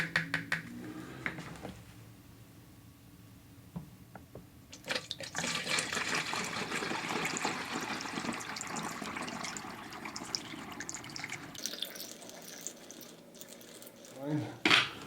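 Water and record cleaning fluid being poured and mixed for a batch of L'Art du Son solution, steady liquid pouring and splashing in a container up close, with a quieter pause and handling clatter near the end.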